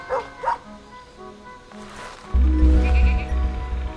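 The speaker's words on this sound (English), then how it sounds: "We spied a few worthless sheep lazing around in the meadow." Sheep bleat in a meadow in the game Superbrothers: Sword & Sworcery EP, two short soft calls at the start, followed by a low, loud droning tone from the game's sound.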